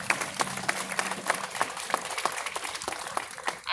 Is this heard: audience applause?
yes